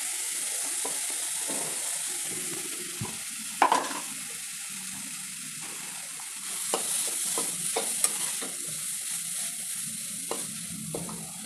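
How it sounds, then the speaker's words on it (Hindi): Crushed khoa (mawa) melting in a pan over medium heat while being stirred, a soft steady sizzle broken by scattered scrapes and taps of the spoon, with no voices. "इधर हम मावे को मेल्ट करेंगे मीडियम आंच में"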